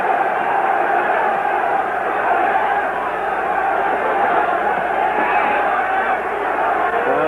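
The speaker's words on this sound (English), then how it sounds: "Crowd quite openly is chanting for action." A boxing arena crowd at the 1966 Muhammad Ali versus Mildenberger fight keeps up a dense, steady roar of massed voices without a pause, loud and continuous throughout.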